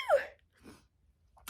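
A single short sneeze, fairly close and sharp, followed by faint breaths and quiet stillness.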